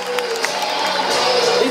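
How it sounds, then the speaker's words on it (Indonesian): Spectators at a dolphin show at Ancol, Jakarta, applaud and cheer as a dense, steady roar of clapping and crowd noise, loud and sustained from start to finish. "boleh berikan tepuk tangan yang pertama untuk lumba-lumba"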